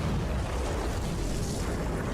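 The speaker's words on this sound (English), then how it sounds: "when there's an explosion." Bomb-making explosion in early twentieth-century China, heard as a dense sustained rumbling roar that stays loud and even throughout with no voices.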